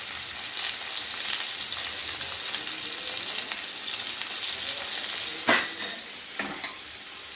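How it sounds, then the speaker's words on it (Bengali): Sweet potato and eggplant, salted and turmeric-coated, fry in mustard oil with a continuous close sizzle, broken by a couple of louder scraping stirs near the end. No one speaks. "এগুলো বেশ ভালো করে একটু ভাজা ভাজা করে নিয়েছি"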